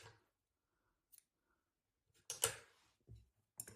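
Scissors cut a strand of knitting yarn in a quiet room: a few faint, soft snips and ticks spread out, ending in a short, louder cutting burst.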